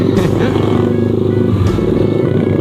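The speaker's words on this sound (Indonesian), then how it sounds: "Waduh, banyak motor barbar sore" Loud, steady engine drone of motorcycles on a road, rumbling continuously close by with a couple of brief louder surges as bikes go past.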